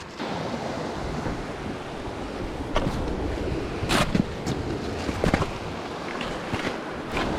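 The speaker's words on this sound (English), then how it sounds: "Oh, there's quite a swell here." Sea swell washes against rocks at a tidal point along the UK coast, a continuous rushing roar of surf with wind buffeting the microphone and a few sharper splashes.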